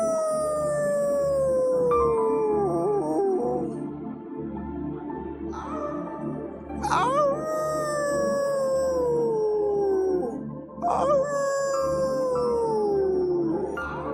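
A human voice imitates a dog, giving three long, drawn-out howling woofs that slide downward in pitch, each separated by a short gap, loud and alone.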